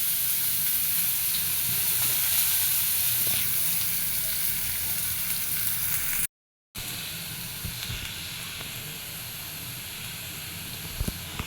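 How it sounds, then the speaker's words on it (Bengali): Chopped onion frying in hot oil with cumin seeds, giving a steady, loud sizzle and hiss that runs on without a break, apart from a brief gap midway. "পেঁয়াজটা ভাজা ভাজা হয়ে গেছে"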